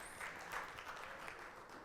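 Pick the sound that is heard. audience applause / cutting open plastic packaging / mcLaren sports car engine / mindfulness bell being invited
audience applause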